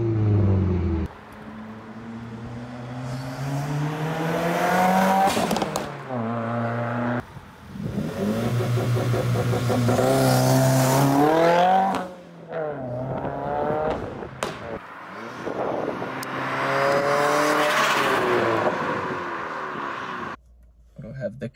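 A Subaru WRX with an aftermarket exhaust passes by, its engine rising and falling in pitch through loud revving pulls and gear changes, the rumble swelling near and fading across about twenty seconds.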